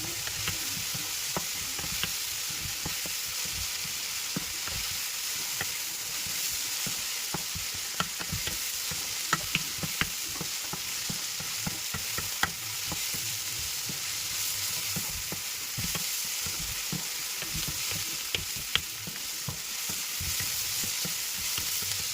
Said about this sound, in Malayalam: സവാളയൊക്കെ ഒന്ന് കുറച്ച് വഴണ്ടിട്ടുണ്ട്